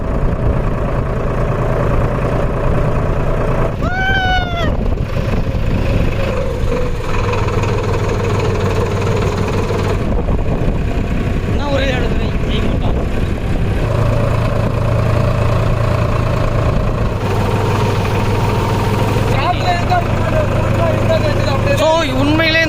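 A Farmtrac World Maxx 55 HP tractor engine idles steadily with a low, constant rumble throughout, with a few brief tonal chirps or whistles rising over it, while rigged to pull a boat.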